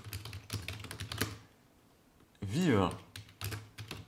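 A person types on a computer keyboard with quick, light clicking keystrokes, close by, while someone speaks over part of it.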